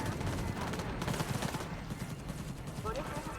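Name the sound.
gunfire from enemies in Cyberpunk video game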